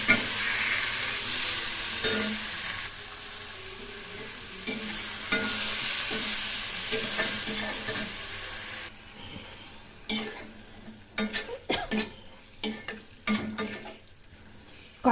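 Spices with turmeric and salt sauté for egg curry, first as a loud steady sizzle for several seconds, then as quieter frying broken by a run of sharp spatula scrapes and clanks against the pan.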